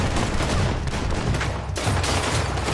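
Rapid, dense gunfire from Red Dead Redemption 2 fills the clip: loud, continuous volleys of shots that pause briefly midway and then resume.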